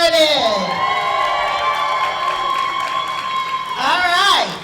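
Cheering and whooping from the audience at an 8th grade STEM graduation ceremony, a sustained roar with a rising swell at the start and end, and a voice over the crowd.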